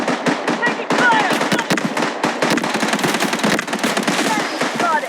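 A video game battle erupts in loud, rapid automatic gunfire, with dense overlapping bursts and crackling shots firing almost continuously at close range, while voiced callouts sound over the action.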